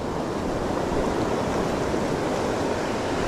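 Ocean waves washing on the shore during net fishing from a beach, a continuous broad rushing surf, steady and fairly loud with no voices.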